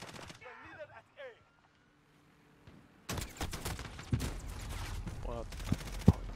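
Rapid automatic gunfire and single shots in a team-based video game shooter, loud bursts starting abruptly after a quiet stretch and continuing with sharp cracks, with a player's voice talking briefly before the shooting.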